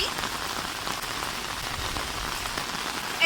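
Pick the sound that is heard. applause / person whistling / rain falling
rain falling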